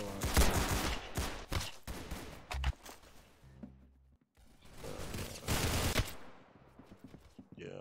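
Gunfire from the Roblox game Arsenal comes in rapid bursts of close, loud shots, broken by a short quiet gap before another dense volley, with voices talking over parts of it.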